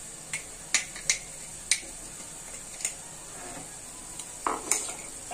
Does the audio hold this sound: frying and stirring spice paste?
yes